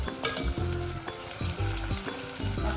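Pink perch fish fry in a pan with a strong, dense sizzling crackle throughout, close and loud, with recurring low tones pulsing underneath and no speech.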